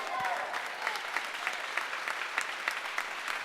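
A church congregation claps steadily during a sermon, a dense wash of applause at moderate distance that carries on throughout.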